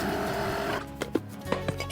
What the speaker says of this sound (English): The old, worn tires are stripped from their rims. A machine makes quick work of the stubborn rubber.